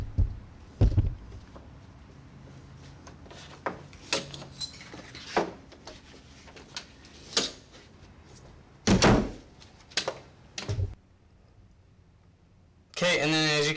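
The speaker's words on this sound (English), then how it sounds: "I also have the door shut, so the latch is also locked" An interior door being pushed shut and its latch locking, heard as a series of sharp knocks, thuds and rattles spread apart, with a louder sustained clatter at the end.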